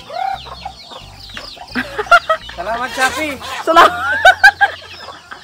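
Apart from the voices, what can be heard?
chickens clucking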